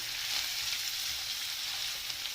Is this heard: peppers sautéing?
yes